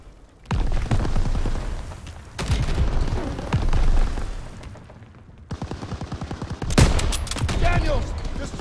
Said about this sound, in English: Daniels, destroy those boxes! Aim for those ammo boxes